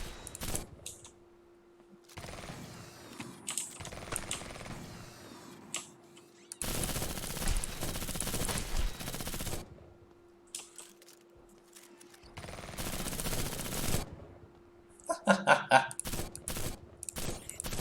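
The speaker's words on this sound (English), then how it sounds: "The enemy is assaulting our base." Gunfire attack on a base in a video game, bursts of rapid automatic fire and scattered shots in separate loud blocks, broken by quieter gaps and mechanical clicks.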